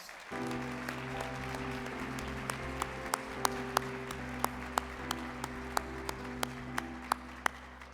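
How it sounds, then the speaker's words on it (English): Sustained applause from a dinner audience at an awards dinner honoring the mayor, a dense steady wash of clapping filling the room, with a few sharp individual claps standing out near the end. "Let's give our mayor a round of applause."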